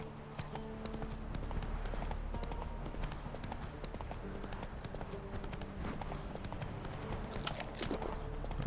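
Horse hooves clip-clopping at a steady riding pace in the video game The Witcher 3, continuous and fairly close over a low ambient game background, with no talk.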